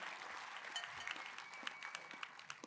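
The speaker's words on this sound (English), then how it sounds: "Then a big, beautiful round of applause." Guests at a college scholarship gala applaud after a live auction bid, a soft, scattered patter of clapping from a large room, with individual claps standing out against the faint wash.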